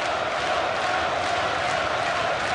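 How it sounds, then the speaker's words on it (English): Boxing arena crowd roaring for Welsh champion Joe Calzaghe during his fight with Sakio Bika, a dense, steady wash of cheering and shouting heard from a distance without letup. "The crowd trying to raise the Welsh champion."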